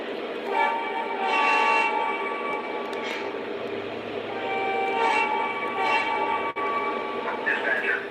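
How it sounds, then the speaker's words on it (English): A Norfolk Southern coal train runs on a model railroad, its rolling rumble steady while sustained horn blasts sound in several bursts, with a sharp click near the end and voices partly over it. "I'm gonna run a coal train with this"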